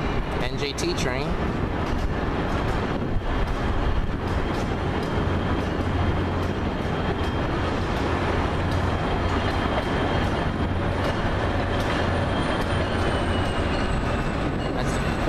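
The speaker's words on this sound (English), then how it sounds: "the NJT train's got to clear first" A New Jersey Transit train rolls past at 30th Street Station in steady, loud rumbling rail noise with a faint horn-like tone, continuous throughout.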